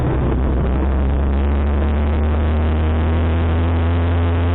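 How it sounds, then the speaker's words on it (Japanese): A motorized bicycle's small engine, push-started by pedaling in neutral and then engaging second gear with the clutch, runs with a steady droning hum, close and continuous with no talk. "これでエンジンが回転して点火する。"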